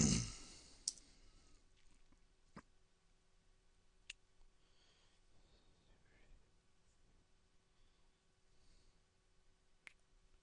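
Computer mouse clicks while browsing to an article online, a few isolated sharp ticks spaced seconds apart over a quiet room with faint breathing.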